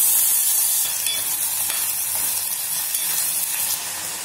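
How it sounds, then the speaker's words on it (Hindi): Tomato and ginger frying in hot ghee in a small kadai, a loud, close, steady hissing sizzle that holds throughout and eases slightly near the end, with no talking. "हमारा घी गर्म हो गया है और अब हम इसमें टमाटर और अदरक को डाल देंगे।"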